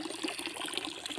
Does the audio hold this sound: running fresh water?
yes